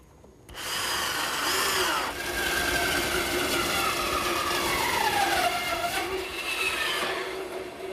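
Saw blade cutting wood for a garden gate, a loud sustained whine starting abruptly, with the pitch sliding and dipping as the blade works through the curved cut, close and continuous without talk.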